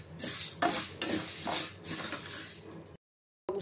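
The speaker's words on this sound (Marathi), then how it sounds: "साबुदाणा मस्त भाजला गेलाय, कारण तसं चुरचुर असा आवाज यायला लागला साबुदाण्याचा" Sago pearls dry roasting in a pan over high heat, with close scraping stirs and light crackling clinks in bursts, then a sudden moment of silence before the stirring resumes.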